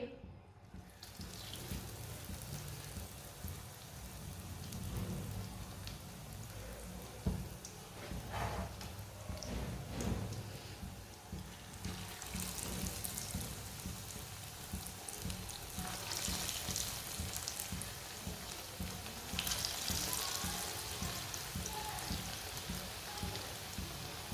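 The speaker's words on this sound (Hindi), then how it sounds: "ये बहुत ही कम ऑयल में फ्राई होंगी।" Aloo tikki, potato patties, fry in a little oil with a soft, steady, rain-like sizzle that fills the whole stretch, while a voice talks now and then underneath.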